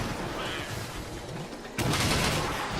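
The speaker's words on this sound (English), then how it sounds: "I think it shot over me, that poison cloud" In Monster Hunter 3 Ultimate, a monster shoots a poison cloud: a sudden loud, hissing blast bursts in over a rumbling, noisy battle background and keeps roaring to the end.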